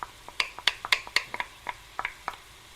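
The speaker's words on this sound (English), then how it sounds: "first we're going to break up and saute the sausage in your pot" Sausage being broken up and sautéed in a pot, heard as quick irregular clinks and scrapes of a utensil against metal over a faint sizzle, close and fairly quiet.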